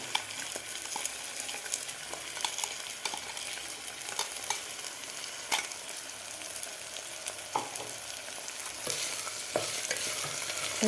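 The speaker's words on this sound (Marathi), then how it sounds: "मसालासुद्धा आपल्याला व्यवस्थित फ्राय करून घ्यायचा आहे" Black masala (kala masala) frying and being stirred in a pan for Khandeshi khichdi, a steady close sizzle with frequent scraping stir strokes, no talking.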